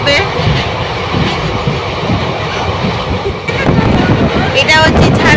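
A moving passenger train departing Jhajha rumbles steadily with broad wheel and carriage noise and wind buffeting the microphone, loud and close from inside, with voices in the carriage.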